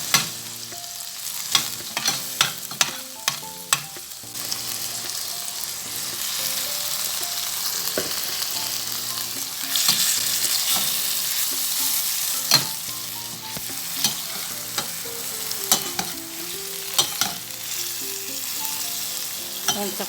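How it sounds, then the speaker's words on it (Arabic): Chicken liver fries in a hot pan with a continuous crackling sizzle, broken by sharp pops and clatter of stirring utensils against the pan, steady and close throughout. "نبدا اضيف الكبده الثانيه او الجزء الثاني من بقيه الكبده"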